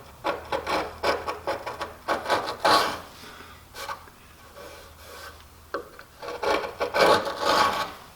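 A sharpened V-gouge carves across the grain of butternut, a moderately hard wood. It makes close, dry scraping strokes in several bursts with a quiet gap in the middle and no talking.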